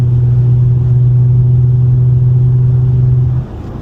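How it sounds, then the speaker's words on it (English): Steady, low droning engine and Invidia Gemini catback exhaust hum from an Infiniti FX37 at 80 on the highway under throttle, constant and loud, dropping off abruptly near the end. "right now I'm on the highway going 80, and this is how the car sounds right now"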